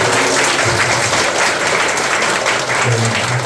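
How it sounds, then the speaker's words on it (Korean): A church congregation gives loud, sustained applause in welcome during a Sunday worship service, dense steady clapping filling the room from start to finish with a faint voice underneath. "그리 큰 박수로 환영하겠습니다"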